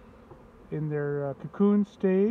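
Honey bees in an open hive in early spring, buzzing loudly in several close, steady bursts with brief gaps, while a person talks between them.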